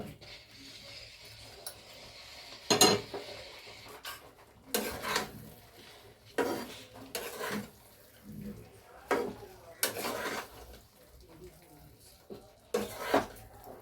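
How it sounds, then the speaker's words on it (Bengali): Fried cauliflower being stirred into korma in a pan, heard as a series of short scraping, clattering spatula strokes at an uneven rhythm, close by and moderately loud over quiet background. "এবারে আমি যে ফুলকপিগুলো ভেজে রেখেছি ওগুলো এর সাথে মিশিয়ে দেব।"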